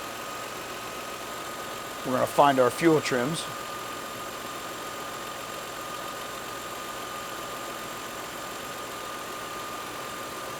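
A parked Lexus ES300 with lean-condition fault codes idles with a low, steady hum, while someone talks over it.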